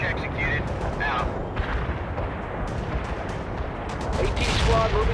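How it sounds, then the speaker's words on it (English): An artillery barrage in the real-time strategy game World in Conflict, with dense, rumbling explosions and rapid booms rolling continuously while battlefield noise swells toward the end, and voices briefly heard over it. "Barrage executed."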